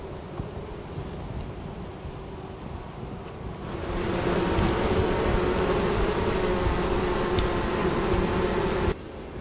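Bees from a healthy colony hum steadily around a straw Sunhive beehive outdoors, a dense continuous drone that swells louder partway through, with some wind noise and no talking.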